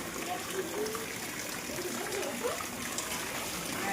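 Rain pours steadily over a waterlogged house yard in Botad, and runoff trickles and splashes continuously at close range. Faint voices sit in the background.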